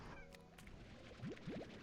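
Slime kittens in the video game Slime Rancher give three quick, small rising meows near the end, faint and close together over busy game background sounds.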